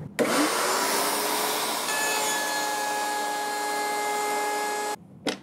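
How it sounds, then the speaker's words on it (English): A wood router with its bit cutting into wood, cutting depth raised in steps: a steady, loud high-pitched whine with a sustained tonal hum, running continuously for about five seconds before stopping abruptly, with a brief noise after. "I'm going to do this in steps, so it doesn't destroy my router or the bit."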